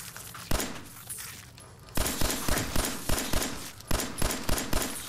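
Gunshots fired at red roaches in the video game Fallout 4: a string of about nine sharp, loud cracks, spaced roughly a third of a second apart, most of them after a brief lull, over steady game ambience.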